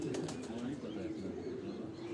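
Racing pigeons at a pigeon-sport gathering coo in low, rolling murmurs under a steady outdoor hum, with faint wing flaps and chirps mixed into a continuous background.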